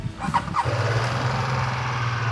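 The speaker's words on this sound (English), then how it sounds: "this is how the motorcycle sounds like" A 2026 BMW F 450 GS motorcycle engine turns over with a few sputtering bursts, then settles into a steady, low idling rumble close by.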